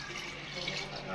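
Water is poured from a tap into washed lentils in a pressure cooker, giving a steady soft splashing rush at close range, with someone speaking over it.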